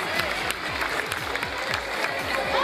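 An audience applauds to welcome a student speaker at a school Independence Day event, a dense, steady wash of many hands clapping, fairly loud and continuous, with a faint murmur of the crowd beneath.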